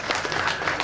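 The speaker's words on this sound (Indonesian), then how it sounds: "Tepuk tangan buat Gubernur kita." Crowd at a gathering applauds a governor, a brief, even wash of many hands clapping at moderate level.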